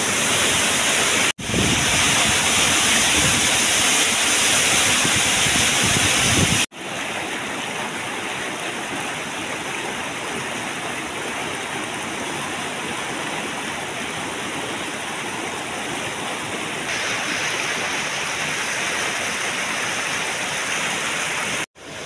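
San Ramon Falls pours down in a loud, steady roar of rushing water heard up close, continuous throughout with no voices.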